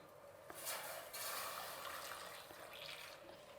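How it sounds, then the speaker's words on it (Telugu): Reserved cooking water from boiled greens and lentils is poured into a Karnataka bassaru masala, a soft, steady splashing that runs the whole stretch and stays quiet and close. "ఇప్పుడు ఈ నీళ్ళు వేసేద్దాం."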